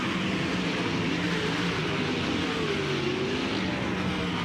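USAC sprint cars race around the dirt oval at Eldora Speedway, a continuous loud engine roar with shifting revving pitch as the field runs through the turns.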